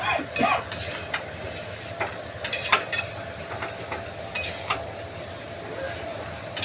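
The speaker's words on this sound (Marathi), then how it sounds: "तर आपण परत एकजीव करूया।" Methi and peanut bhaji being stirred in a pan, with a steady low sizzle and repeated scraping and clinking of a utensil against the metal at irregular intervals, close by.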